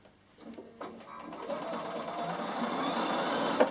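A Bernina sewing machine with a quarter-inch foot stitches fabric strips for strip piecing, its motor starting softly and then running in a steady, fairly close, continuous whir.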